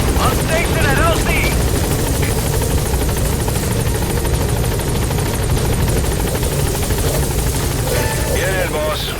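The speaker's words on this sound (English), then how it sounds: "Support helicopter has arrived." A support helicopter in Metal Gear Solid V arrives at a landing zone, its rotor throbbing loudly and steadily throughout, with brief radio-like voices under it.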